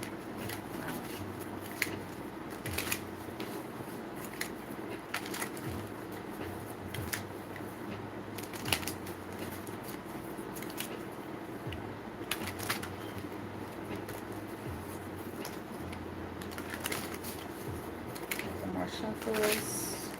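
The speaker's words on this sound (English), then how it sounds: "Shuffles." Tarot card deck being shuffled, soft repeated riffling and flicking of cards at close range, quiet and continuous with a faint voice in the background.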